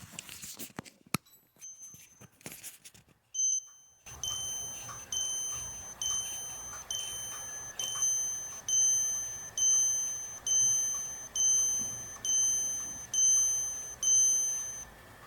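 A series of bright, high metallic chimes from a minute repeater watch repeats in a steady pattern, the tones ringing close and clear over a faint background hiss.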